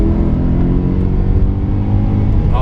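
A modified BMW E34 540i V8 revs hard while driving, a loud, steady engine drone with a rising whine close by that holds throughout without speech.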